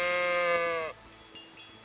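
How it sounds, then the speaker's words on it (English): Sheep in the video game Kingdom Come Deliverance lets out a single drawn-out, wavering bleat, loud and close, which cuts off abruptly into quiet ambient background. "Sheep."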